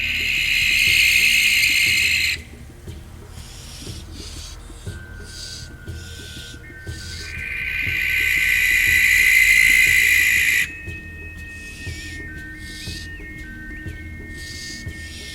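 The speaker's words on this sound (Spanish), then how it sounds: "El silbido, chillido o canto de la curusha era el aviso que nos mandaban los espíritus" A barn owl gives two long, harsh hissing screeches, each lasting a few seconds, loud and close, separated by a quieter stretch with faint high tones.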